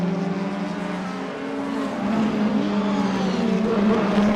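Mercedes and BMW race cars in a video game hold a steady engine drone through the corkscrew, the pitch rising and the sound swelling slightly in the second half, with no voices in the clip.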